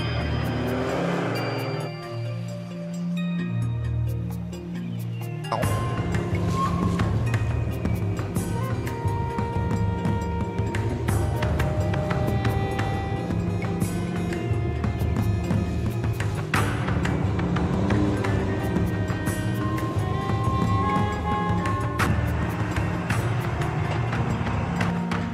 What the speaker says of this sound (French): Le roulement de la roue avant fait du bruit, il gueule très fort après nous.